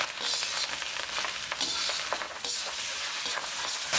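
Chicken fried rice with Schezwan chutney sizzles in a hot pan while it is stirred, with steady frying crackle and irregular scraping strokes and no talking.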